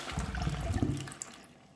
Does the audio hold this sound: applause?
no